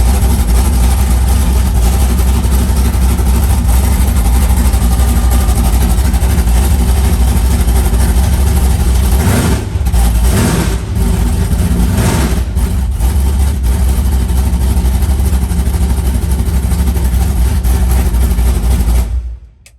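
A junkyard Holden Monaro engine running during a nitrous test, a loud, close, continuous engine roar with surging and brief dips mid-way before it cuts off at the end.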